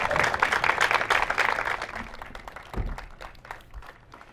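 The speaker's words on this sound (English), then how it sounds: "Let's give them both a big round of applause." An outdoor crowd at a Habitat for Humanity wall raising event gives a short burst of applause, fairly loud at first and then thinning into scattered claps with a low thump partway through.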